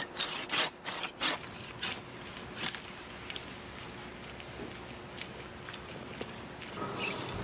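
Pole pruning saw cutting through a tree branch, a few quick rasping strokes at the start, then quieter intermittent scraping and rustling at close range.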